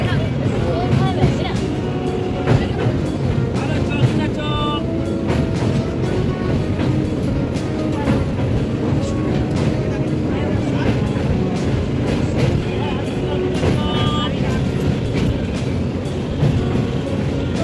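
A passenger train on a four-hour run into Santragachi rumbles and clatters steadily throughout, with voices and background chatter from people aboard blended in over the continuous rolling noise.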